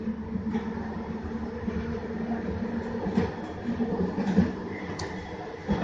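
SkyTrain Evergreen Line train running on elevated track between Coquitlam and Port Moody, a steady rumbling roll with wheel clatter and occasional clicks heard from inside the car, fairly faint and continuous.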